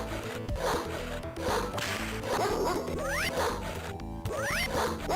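A chain whip swings in the Earthworm Jim video game, sharp whooshing lashes among busy game music and effects, with several swishes in quick succession.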